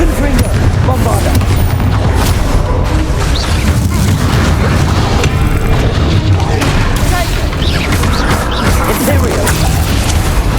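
Confringo and Bombarda blasting spells cast in the Hogwarts Legacy video game, a dense continuous barrage of loud booming explosions and crashing impacts, with a voice calling out over the clamor.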